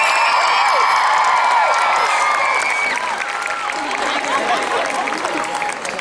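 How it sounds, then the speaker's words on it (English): An audience at the Harry Potter opening night ceremony at Universal Studios applauds and cheers, with loud crowd clapping, whoops and shouts that ease slightly partway through, mixed with voices. "Let's give them both a big round of applause."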